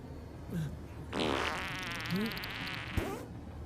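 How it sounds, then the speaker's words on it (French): A short, buzzing flatulent burst sounds close by in a comedy scene, preceded by a brief low squeak and ending in a sharp thump, with faint voices around it. "Tu viens de péter."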